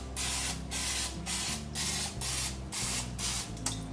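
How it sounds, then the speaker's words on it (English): Olive oil spray is spritzed over the tops of dough balls in a kitchen, several quick, close hissing bursts in a steady rhythm with a low hum underneath. "So now I'm gonna spritz the top of these with a little bit of olive oil spray."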